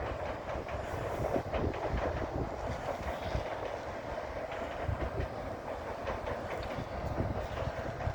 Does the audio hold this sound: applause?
no